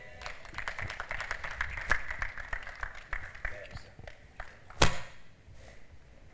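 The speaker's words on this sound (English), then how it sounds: "thank you, ladies and gentlemen, for applauding the Permanent Secretary a second time" Audience at a Nigerian internet governance forum session applauding the Permanent Secretary, a fairly faint, steady patter of claps spread across the room, with one sharp loud clap or thud near the end.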